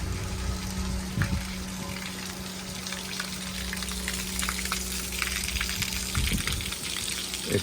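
Water drains from a new farm trailer lifted on the front of a Manitou telehandler, making a steady, close rushing and gushing under a low machine hum, with a couple of faint knocks.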